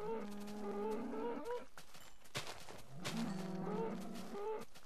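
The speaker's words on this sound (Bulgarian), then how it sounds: "Доста крави." Cows mooing in the Minecraft video game: two drawn-out moos, one at the start and one after a short break, loud and close over a noisy game backdrop.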